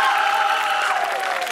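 A young audience at a comedy skit performance claps in a continuous wash of applause, with light cheering blended in at an even level for the short stretch.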